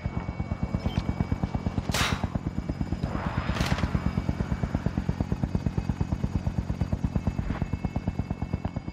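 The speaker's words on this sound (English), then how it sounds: "Cargo secure. Helicopter exiting the AO." A helicopter in Call of Duty: Modern Warfare thumps with fast, regular rotor beats close by, with a couple of sharp bursts of gunfire or impacts cutting through.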